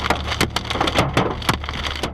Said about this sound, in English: huge chunks of hail pummeled down on her car in Colorado, with the golf-sized stones hitting sound as if they were bullets and shattered the rear